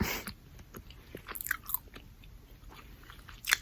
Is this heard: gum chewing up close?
yes